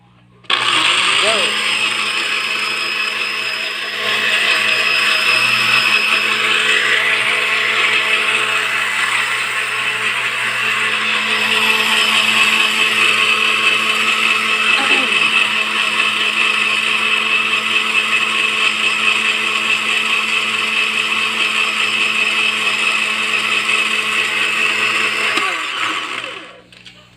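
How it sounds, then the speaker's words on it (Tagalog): Blender whirring steadily for about 25 seconds as it blends a diabetes remedy drink with water, a loud continuous motor drone that starts and stops abruptly. "So, i-blender na natin ngayon."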